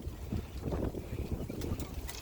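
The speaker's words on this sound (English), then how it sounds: "sorry it's so windy out" Wind buffets the microphone outdoors in a garden on a gusty fall morning, a steady low rumble with uneven gusts over the whole stretch and no clear voices.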